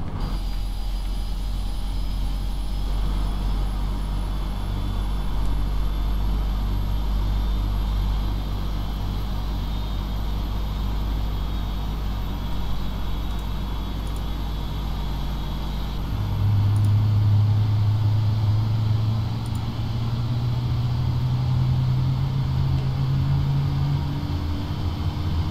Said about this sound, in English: Here engine 2 starting up, doing its thing.